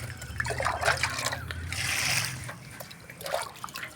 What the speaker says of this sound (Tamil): இந்த செடிக்கு ஒரு கப்பு ஊற்றுறோம்